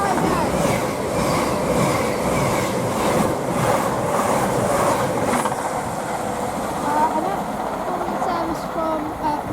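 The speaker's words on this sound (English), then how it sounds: "Service from Manchester Piccadilly to Southampton Central." A passenger train rumbles past at Kings Sutton station on the Chiltern Main Line, loud and close, with rhythmic wheel clatter and a steady roar that eases slightly toward the end.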